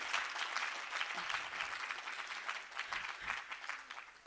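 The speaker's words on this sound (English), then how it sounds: "Can we give him again a round of applause for the last time?" An audience applauds at an entrepreneurs' event, steady dense clapping from a crowd heard at moderate distance, continuous for several seconds and fading slightly toward the end.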